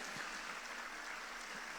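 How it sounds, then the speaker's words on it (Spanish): A church congregation applauding during a worship service, steady faint clapping filling the whole stretch at a distance with no voices over it. "Vamos a darle un aplauso al Señor"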